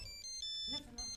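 A mobile phone ringtone chimes in short repeating tones indoors, partly under a voice speaking over it.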